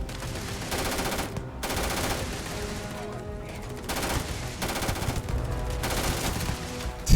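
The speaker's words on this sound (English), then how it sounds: "This is an SMG." Submachine gun fire in the space game Starfield, dense rapid bursts of automatic shots running almost continuously, broken by a few short pauses.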